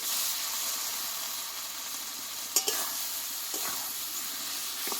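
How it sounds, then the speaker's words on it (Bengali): Marinated chicken sizzles with spice paste in a hot pan, a steady frying hiss throughout with a couple of brief scraping stirs near the middle. "দেখো চিকেনটা দিয়ে আমি আরও কিছুক্ষণ কষিয়ে নেবো ভালো করে"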